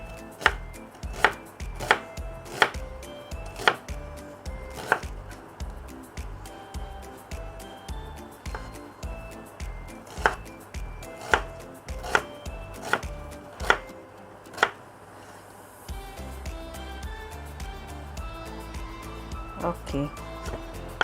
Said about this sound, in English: continue with the big onion or whole onion. This one also we chop fine.